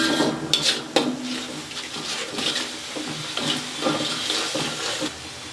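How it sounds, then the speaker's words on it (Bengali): A spice paste for ghonia fish curry sautéed in a pan with a spatula: repeated scraping and clinking strokes against the metal, with a soft sizzling wash underneath throughout. "এখন আমি ভালো করে মশলাটা কষিয়ে নেব"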